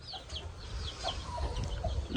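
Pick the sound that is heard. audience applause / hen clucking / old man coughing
hen clucking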